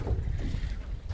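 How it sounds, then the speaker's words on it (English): Wind gusts over a small Osprey boat in a sheltered bay, producing a low, rumbling buffet of wind noise against the microphone. The rumble is loud and unbroken throughout the short stretch. "That wind's really come up now"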